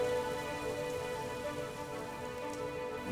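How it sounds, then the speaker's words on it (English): Heavy rain pours steadily on a ride in the Celtic countryside, a dense, even hiss of drops on surfaces that continues unbroken throughout, fairly faint and with no talk. "It is a common thing to ride in the sun, and then within 2 minutes it's pouring rain"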